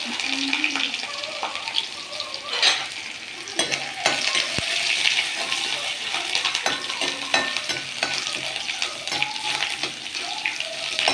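Crushed ginger and garlic sizzle and crackle in a hot pan for a mackerel curry, a steady frying hiss with occasional stirring clatter close by.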